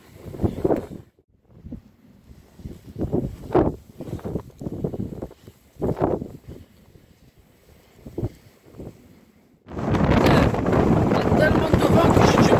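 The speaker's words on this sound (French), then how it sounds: "Il y a beaucoup de vent ici." Outdoors at a rocky château viewpoint, strong wind buffets the microphone, first in gusts between bursts of talk, then as a loud continuous roar over the last few seconds.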